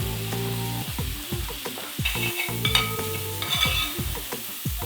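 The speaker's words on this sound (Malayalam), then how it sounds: "നമ്മൾ ഇടയ്ക്ക് പാല് ഇളക്കി കൊടുക്കണം" Milk being stirred in a pan of ghee for beetroot payasam, a spoon scraping and swirling in repeated strokes over a steady sizzle, close and fairly loud.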